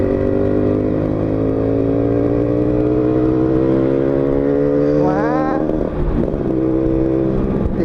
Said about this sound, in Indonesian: digas kok nggak mau jalan ini motor ya